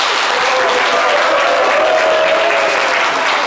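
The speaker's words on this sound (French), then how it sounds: "On va applaudir pour lui" Steady, dense applause from a studio audience on a French-language live show, welcoming a guest singer; continuous and loud throughout with a faint murmur of crowd beneath.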